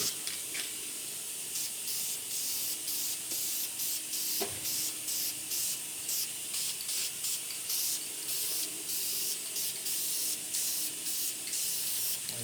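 Paint from a spray can hisses out in a long series of short, evenly spaced bursts, fairly quiet and close, with no talking.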